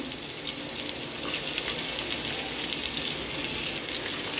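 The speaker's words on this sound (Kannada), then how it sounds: "ಇದನ್ನು ಗೋಲ್ಡನ್ ಬ್ರೌನ್ ಕಲರ್ ತನಕ ಫ್ರೈ ಮಾಡ್ಕೋತೀನಿ" Two medium onions frying in hot oil in a pressure cooker, a steady bright sizzle that hisses evenly and continuously at close range without pause.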